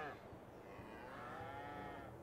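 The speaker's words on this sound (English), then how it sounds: "we'll let the cows out first, because they should be let out." Cattle moo in the Farming Simulator 22 video game, a long drawn-out low call sustained across the whole moment, fairly quiet and alone.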